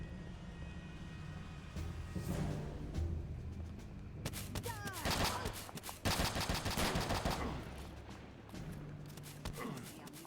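A gun firing in the Real RTCW Mod for PC: quiet ambience gives way to bursts of rapid automatic fire, with a droning aircraft-like engine hum underneath and moments of lull between volleys.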